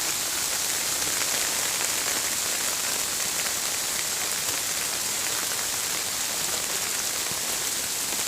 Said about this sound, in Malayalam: അയ്യോ മഴയ്ക്ക് ശക്തി കൂടിയല്ലോ.